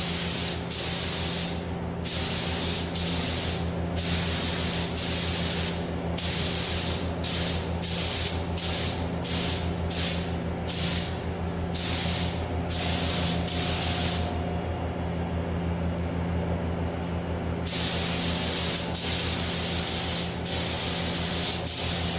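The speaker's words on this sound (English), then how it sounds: "I love just watching the paint come to life from being dull once you start spraying the clear." A spray gun hisses clear coat onto a vintage cabinet in repeated bursts, short pulses followed by a longer continuous spray, loud and close, with a steady hum beneath.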